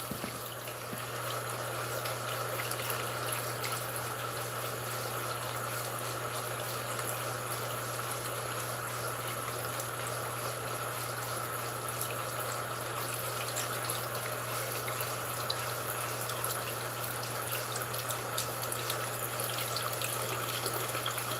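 Tap water runs in a steady, continuous stream while thin, fine hair is washed with Tresemme shampoo and conditioner, with a faint constant hum beneath and no talking.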